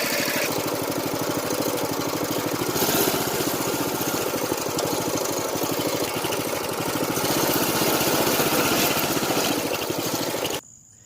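A 2021 Coleman CT200U mini bike engine running steadily while being ridden, a loud continuous buzzing drone with slight rises in pitch, cutting off abruptly near the end.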